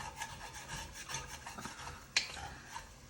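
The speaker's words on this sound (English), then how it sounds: "Kind of scrape around, get some of those good little bits off the bottom, because there will be some." A spoon scrapes browned bits from the bottom of a pot of Hungarian goulash: continuous rough rubbing and scraping strokes, fairly close, with one sharper knock near the end.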